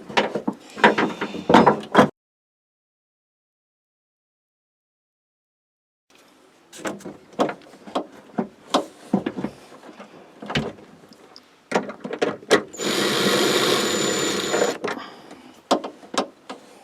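Power tool whirring in short bursts while removing rear wiper parts on a 2006 Jeep Grand Cherokee WK, mixed with clicks and clunks of handled parts, close by, with a silent gap and a longer sustained whine near the end.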